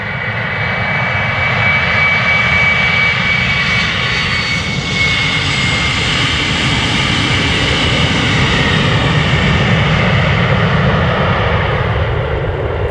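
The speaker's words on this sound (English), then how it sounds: "This is an Embraer 190 to Copenhagen." A KLM Embraer 190 jet bound for Copenhagen takes off from Amsterdam Schiphol Airport, a loud, close, continuous engine roar that holds steady throughout.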